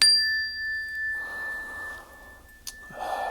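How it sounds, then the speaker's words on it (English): A small mindfulness bell is struck once, its clear high tone ringing steadily and then fading, with quiet room noise and a soft rustle afterward. "use the sound of the bell to bring your focus and attention to this moment"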